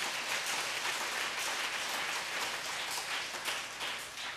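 A church congregation claps together during a sermon, a dense, even wash of applause held at a fairly quiet level for several seconds without talking.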